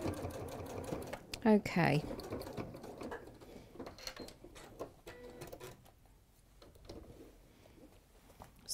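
Sewing machine stitching fabric pieces for a bag or cushion, with a short, loud run of rapid stitching early on, then quieter mechanical clicks and handling noises while a person speaks briefly.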